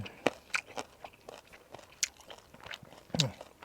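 Crunchy Thai het phuak mushrooms from a curry are chewed close to the mic, giving a series of sharp, irregular bites and crunches that are fairly faint, with no talk.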